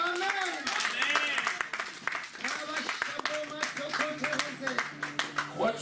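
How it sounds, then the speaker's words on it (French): A church congregation claps and cheers after a scripture reading, scattered hand claps mixed with excited voices and shouts. "Applaudissons, amen."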